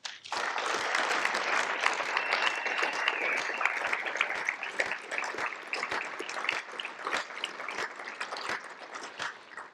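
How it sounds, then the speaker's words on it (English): Sustained audience applause at an awards ceremony fills the room, dense and loud with steady clapping throughout, no talk over it. "Now, I'd also like to have another round of applause for the amazing group"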